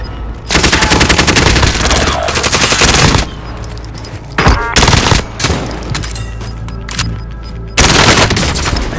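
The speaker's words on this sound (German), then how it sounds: "Sie schießen auf mich." Automatic and rapid gunfire from a Call of Duty Warzone match on Rebirth Island, loud and sustained in dense bursts with short pauses, no talk.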